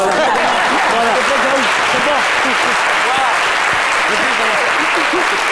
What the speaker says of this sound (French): on les applaudit très très très fort